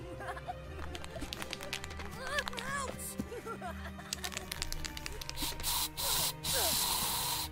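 Spraying hiss from a character in the video game Gas Station Simulator during a Halloween scene, a few bursts of spray amid game noise and sound effects, with some laughing and chuckling mixed in.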